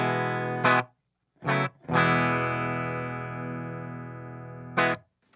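A clean electric guitar tone, miked at the speaker cabinet with multiple mics, plays a few short strummed chords and one long ringing chord that slowly fades, moderately loud with no voices.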